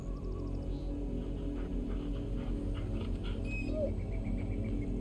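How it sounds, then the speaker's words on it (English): A dog whimpers and yips in the Final Fantasy XVI video game, thin high whines repeating over a steady, loud game ambience and music bed. "Just a couple and their dog."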